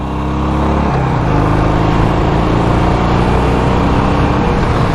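Harley-Davidson Sportster motorcycle cruising on a back road, its engine a steady, smooth low rumble heard close with continuous wind noise and no talking.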